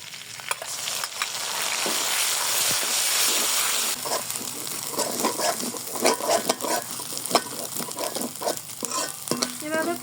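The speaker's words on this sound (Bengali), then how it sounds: "আমি সয়াবিন তেলে করে নিচ্ছি পাতাগুলো ফ্রেশ করে নিয়েছি দিয়ে দিব" Drumstick leaves fry in soybean oil with a loud, steady sizzle that eases off after a few seconds, then rhythmic stirring scrapes and taps of a spatula in the pan, close and with no speech.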